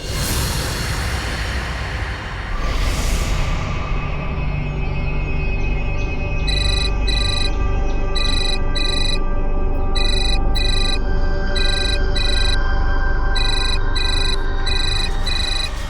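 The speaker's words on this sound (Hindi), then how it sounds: "कम से कम फोन तो उठाओ।" After a brief whoosh, an electronic phone ringtone chirps in repeated short bursts over a constant background hum.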